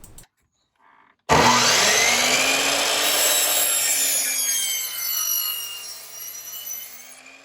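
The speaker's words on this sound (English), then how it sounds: "cutting more than one at the same time, multiples at the same time, will save you a lot of time and will make your cuts cleaner" Several stacked wooden boards are sawn through together while making a simple Christmas tree decoration. After a brief click and a pause, a loud, continuous rasping cut runs up close and fades slightly toward the end.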